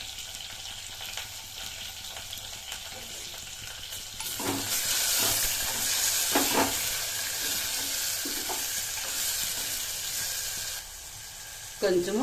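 Tomato and bitter gourd pieces hitting hot oil in a pan, the frying swelling into a loud, dense sizzle midway with scraping stirs over it, while someone speaks briefly near the end.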